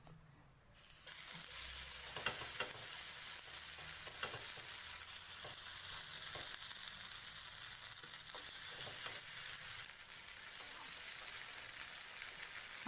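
Sprout chilla batter frying in an oiled pan, a loud steady sizzle that starts abruptly and holds for many seconds, with faint scrapes and taps under it.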